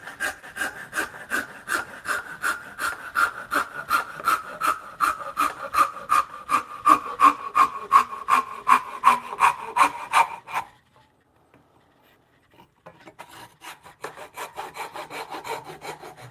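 A hand saw rip-cuts a wooden tenon on a bunk bed rail in a long run of even, rasping push strokes, close and loud. It stops for a brief silence, then a few quieter strokes resume.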